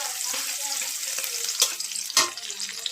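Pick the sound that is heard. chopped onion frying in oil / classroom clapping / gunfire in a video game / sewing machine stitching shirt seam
chopped onion frying in oil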